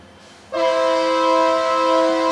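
A train horn blares loud and close, a sustained steady blast that starts abruptly and holds, heard near a baseball game between the FNBO Nationals and Kearney.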